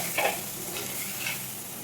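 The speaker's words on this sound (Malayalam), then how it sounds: "ഈ അരപ്പൊന്ന് മൂത്ത് കിട്ടണം." Steady, close hiss of a fish-curry spice paste with coriander powder sautéing in a hot pan, with a couple of soft scraping stirs cutting through the sizzle.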